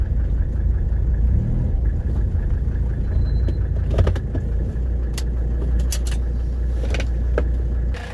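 A Mercedes-Benz 300TD with an OM617 turbo diesel engine idles steadily and loudly up close on a closed road, a continuous low rumble with a few brief clicks and rattles over it.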